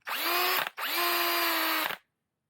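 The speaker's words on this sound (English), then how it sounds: "A lot of magic smoke coming out of my drill." An electric drill that is smoking and throwing sparks whines loudly in two bursts. The first is short, then after a brief gap comes a longer run before it cuts off into silence.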